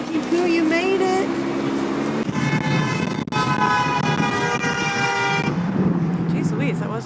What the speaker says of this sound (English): He honked for no reason.